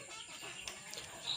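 Desi chickens clucking softly in a breeding pen with a large rooster nearby, short low clucks at moderate distance with a slight rise at the end.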